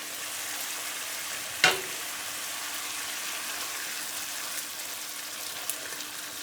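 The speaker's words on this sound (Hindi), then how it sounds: "हमारा मसाला बहुत अच्छी तरह से कुक हो रहा है।" Masala for a creamy chicken curry sizzles steadily in a pan over a medium-low flame, a close, even hiss with one sharp clack of a spoon partway through and no talk.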